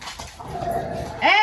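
A dog whimpers in short, high whines, the cries rising more sharply and loudly near the end, with a brief low murmur of a person's voice in the background.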